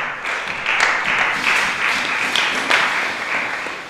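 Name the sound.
congregation applauding the word of God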